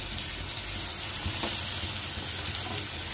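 Tomatoes hit a pan of hot ginger-garlic for Tamil squid thokku, setting off a steady, close sizzle and frying hiss that continues evenly throughout without any speech.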